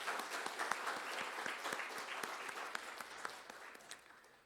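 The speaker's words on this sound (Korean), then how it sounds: "우리 박 목사님 격려하는 마음으로 박수 한번 칩시다." A church congregation clapping for their pastor during a Sunday service, a sustained crowd of hands with sharp individual claps standing out, steady and fading gradually toward the end.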